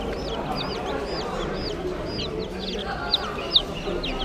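Many small chicks cheep in rapid, high-pitched peeps over a steady background hum, with a couple of louder peeps near the end.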